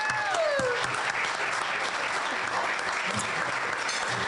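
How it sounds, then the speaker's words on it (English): A luncheon crowd at a Pride event applauds as a new CEO is welcomed to the stage, steady sustained clapping from many hands at moderate distance, with a brief whistle near the start. "So please join me in a round of applause."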